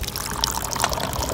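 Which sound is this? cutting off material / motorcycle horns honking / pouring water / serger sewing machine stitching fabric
pouring water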